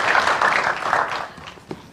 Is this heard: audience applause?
yes